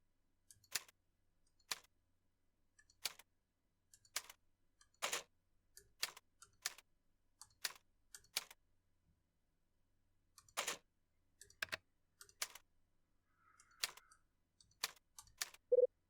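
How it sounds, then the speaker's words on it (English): Keys clack on a typewriter in the video game Last Window, one sharp strike at a time with quiet gaps between them. The rhythm is irregular and close, and a small chime sounds near the end. "Now to try typing something."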